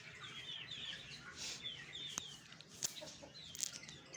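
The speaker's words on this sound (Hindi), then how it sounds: "ये देखें जी ये ये हमारे सीर चूजे हैं जी ये माशाल्लाह अब काफ़ी बड़े हो गए हैं" Young chicks and chickens peep and cluck in a farmyard after rain, with a steady run of soft high chirps and a few sharper calls over a low background murmur.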